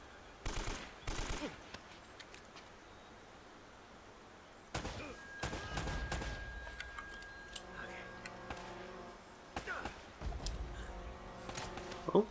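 Short bursts of AK rifle fire crackle in Uncharted: Drake's Fortune HD Remaster, coming in three separate volleys with quieter gaps between them. A player talks over the shooting.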